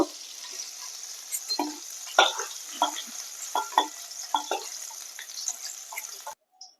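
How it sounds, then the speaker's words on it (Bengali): Prawns frying in hot oil give a steady, moderate sizzle, punctuated by repeated clicks and scrapes of a stirring spoon, before cutting off near the end. "তেল গরম হয়ে গেছে এবার আমি চিংড়ি মাছগুলোকে ভেজে নেবো"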